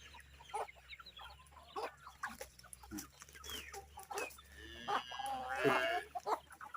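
Gamecock chickens, bred at home, cluck and chatter in a busy, uneven stream, somewhat faint, with a steady low hum underneath and a louder burst of squawking near the end.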